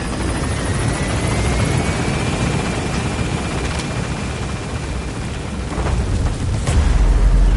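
Helicopter rotor roar from the Metal Gear Solid V game, a steady dense drone holding throughout as the aircraft gains altitude, with a faint rising whine and a louder low rumble swelling at the end; no talk.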